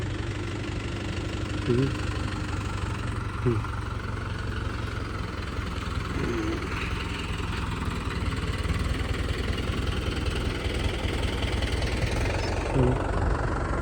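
A farm tractor engine idles in a steady, continuous low rumble with a faint knocking pulse, running evenly throughout with no change in pace.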